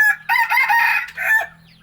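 A Thai fighting cock crows once, loud and close, a drawn-out call with no other sound around it.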